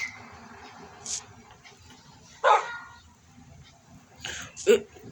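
A few short barks from a dog in the video game Minecraft, spaced apart over a low steady background, with speech nearby.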